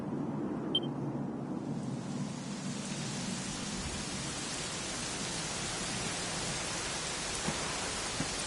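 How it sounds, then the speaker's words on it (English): Steady rain pours down in a Dragon Quest XI scene, a dense even hiss with a low rumble underneath, constant and unbroken, with no voices. "it was raining like this the last time I ever saw her"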